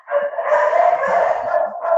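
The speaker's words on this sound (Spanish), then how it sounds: "El perrito." A small dog barks and yips in one continuous, close, fairly loud burst of whiny vocalizing lasting about two seconds.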